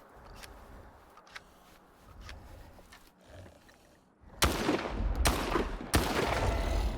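SPAS-14 shotgun fired in S.T.A.L.K.E.R. 2 during a test on mutants: a few quiet shots early, then three loud, sharp blasts spaced about a second apart near the end.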